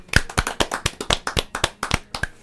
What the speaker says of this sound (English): Everybody start clapping